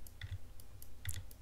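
Light keystrokes on a computer keyboard while entering map values by hand in a JavaScript game tile editor, a few sparse, crisp clicks spaced irregularly over a quiet background hum.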